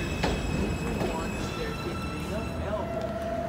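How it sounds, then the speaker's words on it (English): A Manhattan-bound M subway train sits at a station with a loud steady rumble, squealing wheels and a tonal whine rising over the din, while a voice speaks under the noise. "This is a Manhattan-bound M train."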